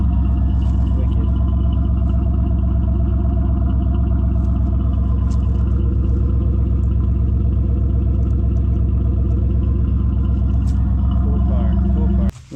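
A sports project car's engine hums steadily while driving, a constant close rumble with mid-range drone running evenly throughout, ending with a brief drop at the very end.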